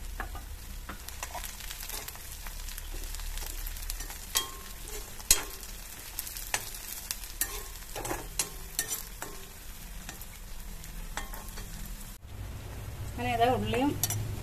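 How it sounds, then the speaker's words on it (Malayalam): Shallots and green chillies sizzle and fry in a pan, a continuous crackling hiss broken by scattered clinks and scrapes of a spoon stirring, with a brief voice near the end. "അങ്ങനെ ഇതാ ഉള്ളിയും പിന്നെ പച്ചമുളകും എല്ലാം നല്ലോണം മൂത്ത് വന്നിട്ടുണ്ട്"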